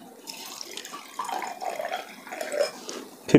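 Water poured into a container and stirred during a Health Guard rice bran oil demonstration, a soft continuous splashing and trickling that builds in the middle and ends with a louder clunk.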